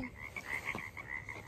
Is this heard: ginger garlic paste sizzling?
no